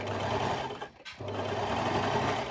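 A sewing machine stitches the border of bikini fabric with a steady, close mechanical whirr, stopping briefly for a moment before running again at the same even pace.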